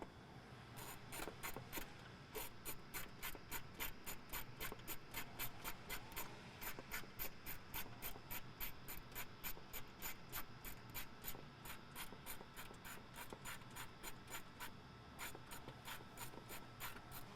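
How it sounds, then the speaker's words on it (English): A 10 mm ratchet removes the air box bolt on a Ford Bronco with the 2.3L engine, its pawl clicking in a fast, steady, even rhythm for a long stretch, close and fairly quiet. "Now with the 10 mil, we'll remove the bolt that's holding the box in."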